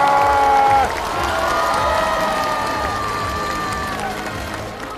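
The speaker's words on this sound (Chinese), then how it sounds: "所以现在我们要把所有的掌声尖叫献给我们最后这位朋友" A studio audience at a Chinese comedy variety show's final-episode music performance breaks into loud, steady applause mixed with cheering and whoops, close and continuous, with sustained musical tones running through the crowd noise.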